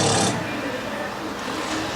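A voice imitates a big raspberry, a sustained buzzing, flapping noise from a crowd at a Halloween story show at SeaWorld Orlando, starting loud and continuing as a rough steady rasp.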